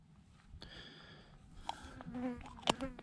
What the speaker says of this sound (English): I'm getting attacked by these little flies.